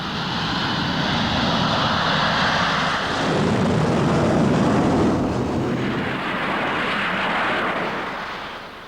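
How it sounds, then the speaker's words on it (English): A jet fighter launches from a catapult with its engine at full power, a loud, sustained roar with a deep rumbling swell midway that holds for about nine seconds before easing off at the end. "It takes the combined force of the catapult and the jet engine to give it enough acceleration."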